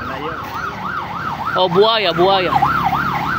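An ambulance siren wails in a steady rising-and-falling cycle, loud and close, while a person speaks briefly over it midway.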